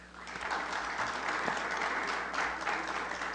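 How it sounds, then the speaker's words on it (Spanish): An audience at a keynote lecture applauds to welcome Professor Raúl Fuentes Navarro: a dense, even wash of many hands clapping at moderate distance, sustained without a break. "un fuerte aplauso para el profesor Raúl"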